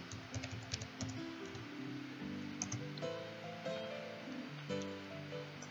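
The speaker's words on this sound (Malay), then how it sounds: "Typekan di keyboard." Computer keyboard typing while naming a light in 3D animation software, a steady run of quick clicking keystrokes close up over faint background music.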